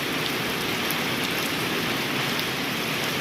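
Steady rain falls without pause over a hilltop farm area of Wang Nam Khiao in a drought, a dense even hiss of drops on surfaces from start to finish.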